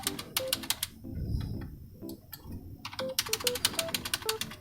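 Figures are keyed on a computer keyboard into a corporate tax return form, crisp rapid clusters of clicking keystrokes with a short pause between bursts, close and clear.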